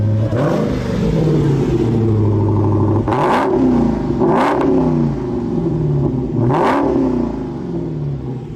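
A supercharged 6.2L Hemi V8 in a 2015 Dodge Challenger Hellcat revving up close and loud, rising to three sharp throttle blips over a rumbling idle, with no talk.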